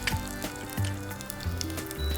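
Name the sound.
green chilies and ginger sizzling in hot oil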